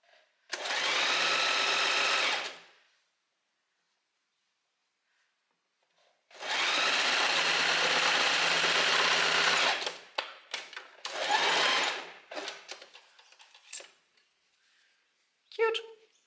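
A sewing machine stitches elastic onto a little black dress, running in two long steady bursts with a pause between, followed by shorter stop-start runs and faint handling noises.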